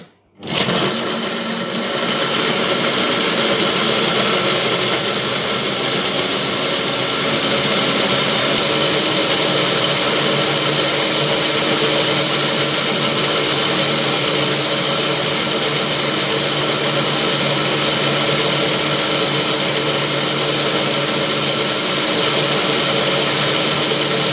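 A Monsieur Cuisine Connect food processor runs at speed 9 while blending a traditional Moroccan harira soup, giving a loud, steady, high whirring drone that starts abruptly and holds unchanged for over twenty seconds.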